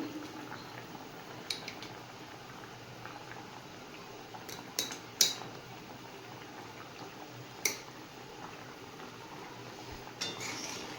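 A ladle clinks and scrapes against a pot of fish curry in several faint, scattered strokes over a quiet kitchen background, with no voices.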